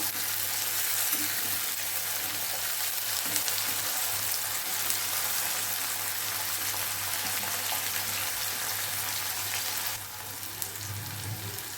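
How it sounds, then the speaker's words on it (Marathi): Tomato and onion sautéing in a pan for a bitter gourd curry, giving a steady, soft broadband sizzle that runs unbroken throughout, with a slight shift near the end and no voices. "एक टमाटा मी याच्यात टाकून घेते हे छान परतून घ्यायचे आपल्याला"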